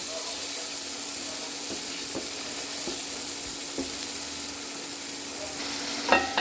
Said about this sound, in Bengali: কাঁচা টমেটো দিয়ে কিছুক্ষণ কষাবো টমেটোটা একটু নরম হয়ে আসছে